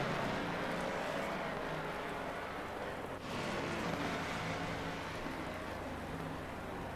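Race cars run at speed through heavy rain at Donington in the Assetto Corsa Competizione racing game, a constant loud hiss of spray and rain with faint engine drone underneath and a brief dip midway.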